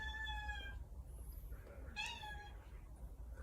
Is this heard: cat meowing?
yes